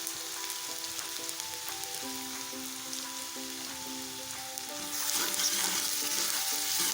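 Finely chopped onion with ginger garlic paste sautéing in a pan for dhaba style shev bhaji, a close steady crackling sizzle with light stirring that swells louder toward the end, with a faint tonal hum behind it.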